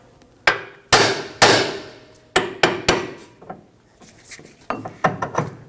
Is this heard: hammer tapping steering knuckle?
yes